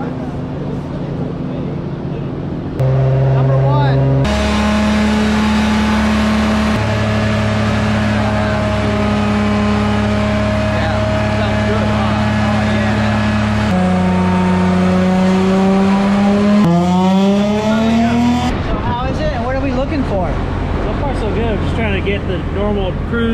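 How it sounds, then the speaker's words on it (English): A tuned car exhaust roars on a dyno, the engine pitch holding steady and then climbing in stepped rises as the throttle is opened. The sound is loud and close and runs continuously, with people talking briefly. "Hear what this exhaust sounds like, because it sounds amazing right now."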